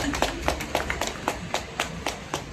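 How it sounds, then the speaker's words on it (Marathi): Audience applause at a school Ambedkar Jayanti celebration: steady rhythmic clapping from a crowd, moderately loud and continuous with evenly spaced beats, no talk over it. "टाळ्या होऊन जाऊ द्या, टाळ्यामध्ये कंजूशी करू नका"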